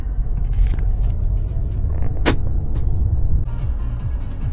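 A taxi car in Dnipro pulls away and drives on, a steady low engine and road rumble filling the cabin, with a sharp brief click partway through and no talking.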